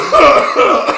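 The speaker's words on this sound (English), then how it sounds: "She made me cough up some of blunt smoke real quick." Harsh coughing from blunt smoke, two rough close bursts in quick succession with a brief gap between, no speech alongside.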